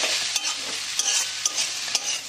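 Garlic and a piece of ginger fry briefly in a pan, a bright continuous sizzle marked by regular stirring scrapes about every half second.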